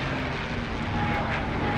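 A WWII plane engine in the Iron Wings game drones steadily and loudly, a continuous propeller-engine roar with no pauses.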